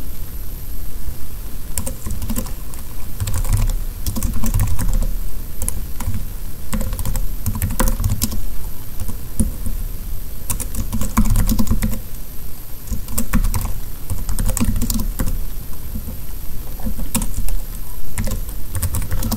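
Steady typing on a computer keyboard, a continuous run of close, crisp key clicks with irregular rhythm and occasional louder bursts, no talking.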